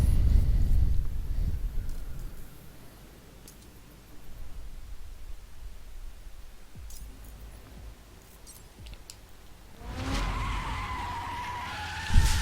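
Abarth 500 in street spec driving in the racing video game The Crew, with a loud engine roar and tire skidding throughout, easing in the middle and swelling again near the end.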